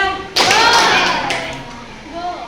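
A classroom of children claps at a school lesson, a sharp sudden onset of many hands followed by a tapering wash of claps, with a voice briefly audible near the end.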